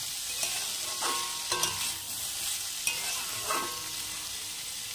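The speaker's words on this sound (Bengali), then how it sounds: "ভালো করে মজিয়ে সুন্দর করে ভেজে নিতে হবে।" Food sizzles steadily in a hot pan while a utensil scrapes and stirs it every second or so, with no talking.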